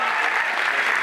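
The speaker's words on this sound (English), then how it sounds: "Give yourself a round of applause for being here on a Wednesday night." A short burst of dense audience applause at a slam poetry event in Bankstown, Sydney, steady and fairly loud throughout the single second.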